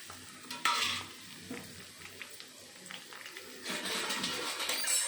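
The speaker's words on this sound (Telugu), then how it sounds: "ఇప్పుడు నెక్స్ట్ ఇంకో బాండీలో ఆయిల్ తీసుకొని ఇందులో కారానికి తగ్గట్టు మిరపకాయలు వేయించుకుందాం." Red chillies frying in oil in a pan while making gongura pachadi, sizzling and crackling with stirring bursts near the start and again louder toward the end, close and mostly alone.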